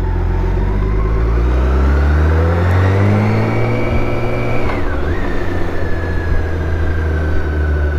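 BMW K1600 GTL motorcycle engine while riding on small roads, a steady loud drone that climbs in pitch, briefly dips, then holds a higher whine, with wind rush.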